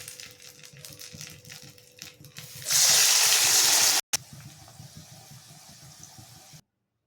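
Cauliflower chilli pieces dropped into hot oil, a loud bright sizzling burst for over a second, then a duller ongoing bubbling fry with background hum.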